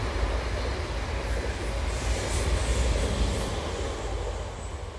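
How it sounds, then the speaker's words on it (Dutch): A steady rumble of a passing train, broad and continuous throughout with no voices, holding at a fairly even loudness. "Treintje..."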